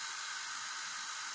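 A hair blower dryer runs, a steady, close, hissing rush of air that stays constant and unbroken with no speech.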